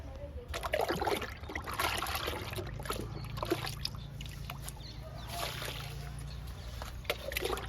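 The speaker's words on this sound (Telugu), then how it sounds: "ఎడేనియం మొక్కలకి ఇస్తున్నాను లిక్విడ్ని" Liquid fertilizer poured from a container onto potted adenium plants, a steady close trickle and dribble with soft splashes into the soil, continuous throughout.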